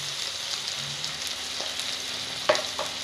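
Eggplant and onions fry in a pan with spices, giving a continuous even sizzle with a few light stirring knocks, the sharpest one near the end.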